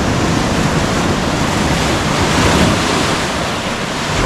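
Ocean surf during a king tide at College Cove in Trinidad, California, roaring loud and close as a continuous wash of breaking waves, with wind buffeting the microphone.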